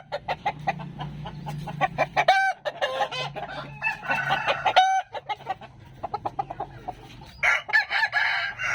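A young American Peru breed rooster of about 3 kg with a large crop clucks repeatedly in short close bursts, breaking into loud crows around the middle and again near the end, with no talking.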